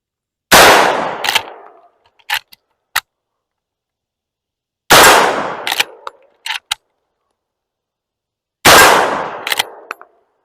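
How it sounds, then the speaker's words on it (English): A lever-action repeating rifle fires three loud outdoor shots spaced about four seconds apart, each blast decaying with a short echo and followed by a couple of sharp metallic clacks as the lever is worked. "I'm going to demonstrate how the lever action works by firing a few rounds"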